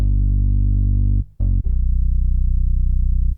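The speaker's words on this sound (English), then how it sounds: "Next thing we have here is an analog bass." A deep, buzzy analog synth bass preset from Analog Lab 5 holds a low note, cuts off briefly, stabs once, then sustains again with a gritty, slightly distorted tone.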